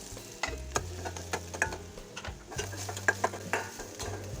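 Onion frying in oil in a kadai for egg curry, with steady sizzling and repeated scraping, stirring strokes of a utensil against the pan, close and fairly loud, with no talk.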